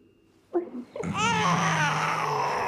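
A baby girl cries loudly and continuously through the night after being left to cry herself to sleep, the wail rising after a few short whimpers and holding steady close by.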